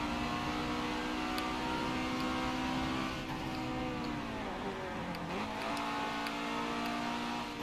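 Engine of a race car in Forza Motorsport 7 revs with steady tonal whine, then dips sharply in pitch mid-way as it shifts or brakes before climbing again; moderately loud, no talking over it.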